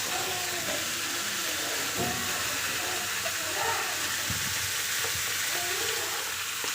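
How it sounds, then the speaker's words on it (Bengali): Chicken legs sizzle and fry in a pan for a Bengali-style dish while a utensil stirs and scrapes through them, giving a steady hiss with occasional clunks, close up and with no talking. "তো ভালো করে এখন কষে নিব"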